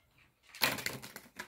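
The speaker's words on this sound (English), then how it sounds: "One last shuffle." Tarot cards are shuffled close by, giving a short, quiet burst of riffling and flicking that fades into a few soft taps.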